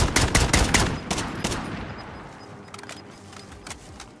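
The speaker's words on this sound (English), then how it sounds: "Hostile! Taking shots." Rapid gunfire bursts in a battle royale style video game, loud and close for the first second and a half, then scattered sharper shots fading into the distance.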